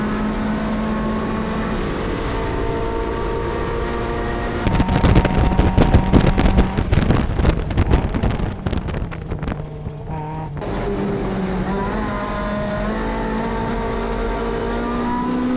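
A Honda CRX race car, number 88, accelerates on throttle during an SCCA Majors race at Auto Club Speedway, its engine droning loudly under heavy wind buffeting, with the noise surging harder mid-run before settling back.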